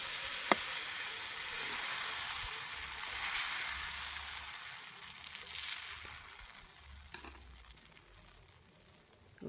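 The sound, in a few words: wheat flour dosa batter sizzling on hot griddle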